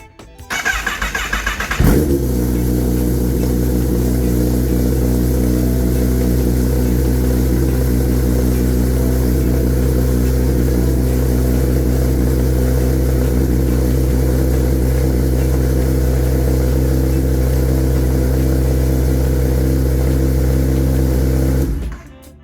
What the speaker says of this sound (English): Turn the bike back off. Turn it back on. Then start the bike.